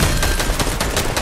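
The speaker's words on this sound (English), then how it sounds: "There were shots coming from the northwest too" Rapid video game gunfire in a battle royale trio match, a dense stream of loud shots with several sharp bursts standing out over the clatter, continuous and close.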